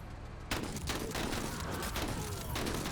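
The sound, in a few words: shotgun firing in video game Menace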